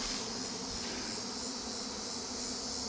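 Honeybees swarm around an open barrel of feed, making a dense, steady buzzing hum up close that goes on without a break and with no voices.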